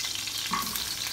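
Green onion tops are stirred in a hot pan of tempering oil, a dense close sizzle with a brief scrape of the spoon midway, no voices.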